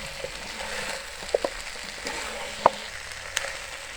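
Korean-style sweet and sour chicken wings sizzle in a pan as they are stirred, a soft continuous fry with a few sharp clicks and scrapes of the utensil, fairly quiet and with no speech.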